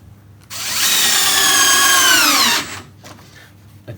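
A power drill drives screws into wood for a homemade spice rack, whining in one loud, close, sustained burst of about two seconds before stopping, with a small knock near the end.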